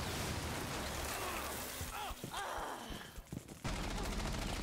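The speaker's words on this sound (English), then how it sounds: "Oh, they shot the claymore." Video game combat with dense bursts of automatic gunfire, a sharp detonation of a claymore mine being shot, scattered thuds and shots during a quieter middle, then heavy shooting again.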